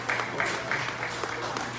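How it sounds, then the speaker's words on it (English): Audience applause at an evening gala honoring service members, a short steady wash of clapping from a room full of people, moderately loud and continuous with no voices over it. "let's give a hand of applause for that."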